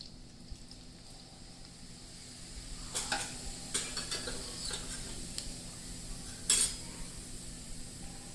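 Cumin seeds sizzling in hot oil in a pan, added after mustard seeds have popped, while cooking vegetable poha; a steady close hiss with a few sharp clinks and scrapes from stirring.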